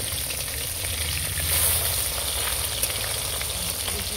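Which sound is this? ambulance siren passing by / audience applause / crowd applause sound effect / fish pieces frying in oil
fish pieces frying in oil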